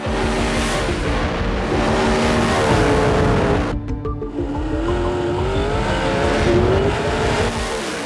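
A race car engine at a dirt speedway roars loud and close, a sustained throaty drone whose pitch climbs and falls as it revs, with a brief dip partway through before pulling hard again.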